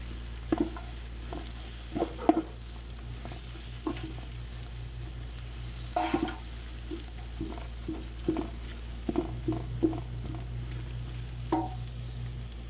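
Garlic stirred and sautéed in a pan while cooking chicken biryani, with a steady close sizzle broken by repeated scraping and clinking strokes of the spoon against the pan.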